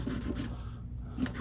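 Sandpaper is rubbed by hand along the edge of an Ovation guitar bridge in a few short, quiet scratchy strokes with a brief pause between them, heard up close.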